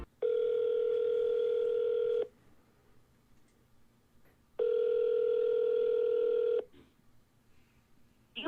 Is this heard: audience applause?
no